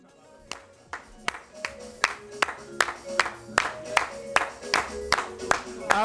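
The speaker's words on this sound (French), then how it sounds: "Applaudissez, pour moi, j'ai dit applaudissez." An audience claps in a steady, rhythmic beat for mothers, about two claps per second building slightly in strength, with faint voices mixed underneath.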